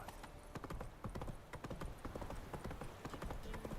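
In The Witcher 3, the horse Roach trots along with clear, rhythmic hoof clip-clops, steady and close throughout.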